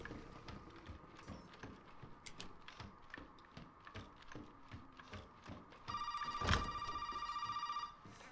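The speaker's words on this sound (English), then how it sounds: "I think you can ignore that phone call" Telephone ringing in the Resident Evil 7 video game, a sustained electronic ring lasting about two seconds over quieter game ambience of footsteps and clatter.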